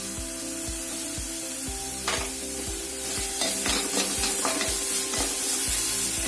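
Chopped garlic and grated ginger, with onion, fry in a pan for momo filling, giving a steady close sizzle. A utensil scrapes and stirs at a regular rhythm over the hiss, and there is no talking.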